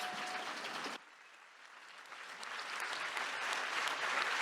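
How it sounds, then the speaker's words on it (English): Sustained applause from a film festival forum audience, a steady wash of many hands clapping that dips briefly then swells again. "I think you can also applaud the filmmaker."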